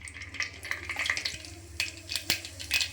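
Mustard seeds dropped into hot oil in a pressure cooker on a stove, crackling and popping in scattered sharp bursts over a soft sizzle, close and fairly quiet.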